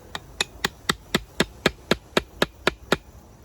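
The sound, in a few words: hammering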